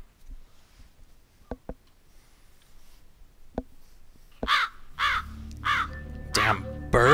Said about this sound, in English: Damn bird! Freaking me out.